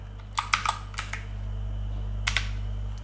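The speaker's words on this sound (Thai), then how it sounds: "ให้เรามาที่คีย์บอร์ดตรงนี้นะ เลือกอังกฤษแล้วก็ใส่ชื่อได้เลยนะครับ" Fingers type a name on a computer keyboard at a desk set up with a Core i7 mini PC. Short bursts of close clicks come in two clusters over a low, steady hum, with no speech.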